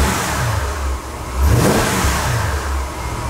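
A Mercedes SL550 on its stock exhaust revs up, the engine note rising to a loud peak midway and falling back, then settling near idle, heard close and alone.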